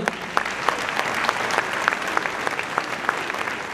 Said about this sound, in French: Allez, on peut applaudir Monsieur Laurent Turban, le maire de Pomerol